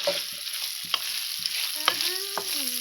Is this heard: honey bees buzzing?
no